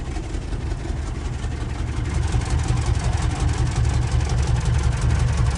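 A 1967 Lincoln's engine idles steadily through a newly fitted exhaust, a close, continuous low rumble with a regular pulsing beat that stays even throughout.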